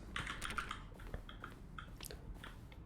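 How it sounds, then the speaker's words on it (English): Quiet, crisp clicks from video game button presses, each a keyboard stroke mix, tapping in an irregular rapid patter with no talk. "A selection of the sounds used throughout the game when buttons are pressed. Each sound is a mix of a keyboard stroke"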